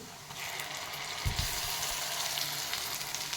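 Onion roasts in a pan with a soft, continuous sizzle and light crackling, a brief clatter partway through, quiet and close with no voices.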